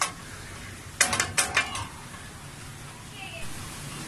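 A utensil knocks and scrapes against a pan in a quick burst of clinks while food mixed with a single egg is stirred, then the kitchen falls quiet with faint background noise.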